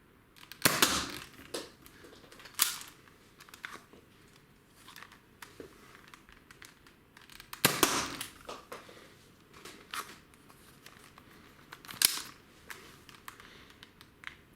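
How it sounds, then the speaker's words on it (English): Nerf Firestrike blaster firing standard foam darts indoors: a few sharp, close spring-plunger snaps spaced several seconds apart, with quieter handling clicks and rustles between them. "Time to give the Firestrike a go. Standard dart this time."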